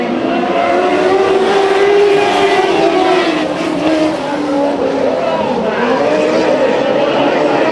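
Race cars restarting on lap one at Bakersfield Speedway, a loud sustained engine roar rising and falling in pitch as the pack accelerates, with an announcer talking over it.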